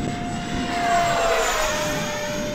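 A BAE Hawk in Red Arrows livery, a 50mm electric ducted fan model jet, rips past into the wind with a loud, steady high-pitched whine that swells and fades slightly over the pass.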